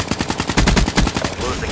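Rapid machine gun fire in the video game Call of Duty: Black Ops III multiplayer, a loud, fast regular burst of shots close up.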